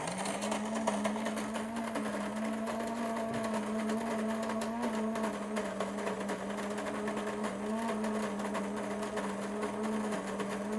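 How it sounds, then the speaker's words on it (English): Built-in grinder of a Breville BDC600 filter coffee maker grinding coffee beans, a steady close whirring drone that holds evenly for about eleven seconds with no talk. "This is the first time I've heard the new grinder."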